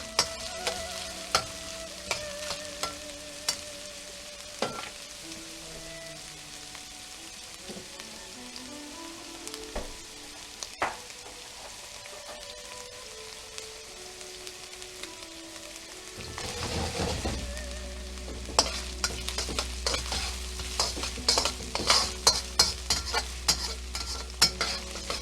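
Chicken fried rice ingredients sizzle steadily in a pan while a spatula scrapes and clatters in irregular strokes, the frying growing louder and denser toward the end with rain-like crackle.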